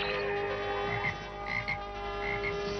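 A cartoon frog in a He-Man animated episode croaks repeatedly in a steady, buzzing rhythm over a constant background hum, close and clear with no speech.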